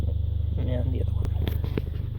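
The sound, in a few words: Mercedes-AMG A45 engine idling loudly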